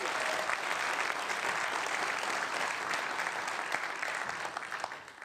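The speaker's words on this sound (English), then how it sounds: "So a round of applause for women in clean energy, right?" An awards audience at a cleantech innovation event applauds women in clean energy, a full, steady round of clapping from a crowd that carries on evenly, then thins out near the end.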